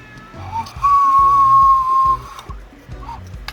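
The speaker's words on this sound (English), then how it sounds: "So the ocarina. See if I can play with one hand here." An ocarina played one-handed gives a single sustained, breathy whistle-like note lasting over a second, with quieter mechanical background noise underneath.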